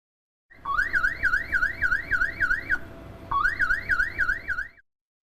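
AI monitoring system on Seoul's Yeongdong Bridge sounding an alarm: a loud rising-and-falling electronic siren wail, repeated in rapid cycles for about two seconds, a short break, then another burst of the same warbling tone.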